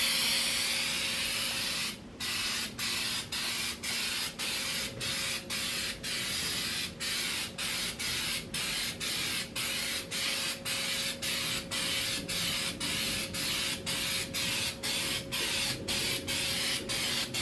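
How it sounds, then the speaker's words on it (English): Continuous spraying of rubber sealant from an aerosol can onto a pop-up camper roof, a loud steady hiss close by, broken by regular brief pauses in a quick rhythmic pattern as the nozzle is pulsed. "We're going to spray it right over top all this."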